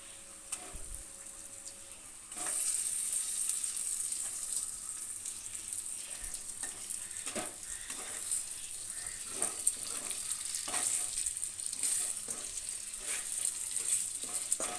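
Fish pieces fry in spiced oil with a steady bright sizzle. The sizzle swells loud after a couple of seconds and keeps crackling, with scattered sharper pops and utensil taps, and no voice over it.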